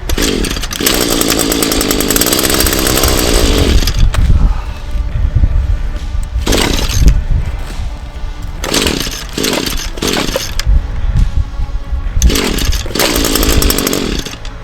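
An ECHO SRM 210 two-stroke trimmer engine running on partial choke, its buzzing note revving up and down unevenly in repeated surges, loud and close.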